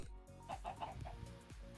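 Chickens in Minecraft clucking softly in a short burst of several quick clucks, faint and close, with no talking over them.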